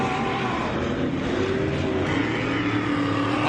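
Off-road race vehicles roaring around a dirt course at the MetalCloak Stampede, a steady loud engine drone with rising and falling revs, somewhat distant and continuous.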